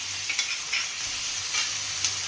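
Beans and onion frying in oil in a pan while being stirred for pasta, a steady close sizzle with a few soft scrapes of the spoon, continuous and without talking.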